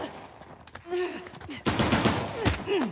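Gunfire in Uncharted: The Lost Legacy, loud bursts of shots and impacts crowding together in a chaotic firefight, with grunts and voice-like sounds mixed in.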